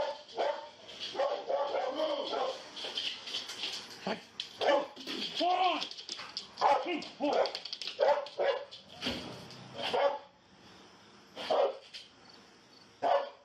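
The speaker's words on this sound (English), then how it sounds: "That dog's gonna bite you if you don't come out." During a police entry into a home, a dog barks and yips over and over in loud, irregular bursts, with whimpers between them and voices talking now and then.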